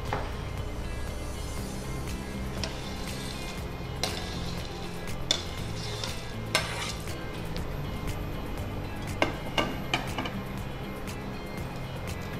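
Ingredients for an avarebele mixture frying in oil, a soft steady sizzle under scattered clinks and scrapes of utensils against the pan, close and moderately quiet.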